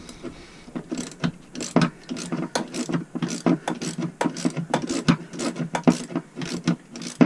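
Close, quiet ratcheting of a 10mm socket wrench on a Land Rover Defender 110, bursts of rapid clicks in an uneven rhythm with short pauses between strokes and no talking.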